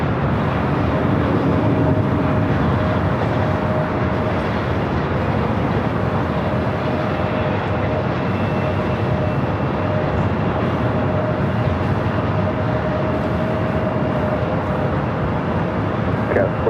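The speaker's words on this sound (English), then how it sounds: "we got that United Dreamliner up next for arrival" A United Boeing Dreamliner arrives at LAX with a steady broadband jet roar that stays loud and unbroken throughout, and a faint tone runs underneath.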